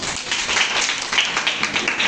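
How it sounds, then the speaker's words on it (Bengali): Students in a classroom clap their hands together, a brief burst of scattered, overlapping applause at steady moderate volume. "ওটা হাততালি দাও"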